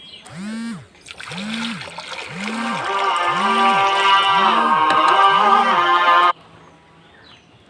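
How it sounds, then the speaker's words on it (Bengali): Water poured from a bucket into a pigeon bathing pool makes a loud, steady rushing gush that stops abruptly, while pigeons coo in a regular repeating rhythm nearby. "এবার সে পানি দেওয়া হচ্ছে।"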